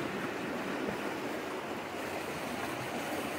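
A high, fast-flowing river in the Ellicott Rock Wilderness produces a steady broadband rush of moving water. It holds an even level with no breaks and no voices.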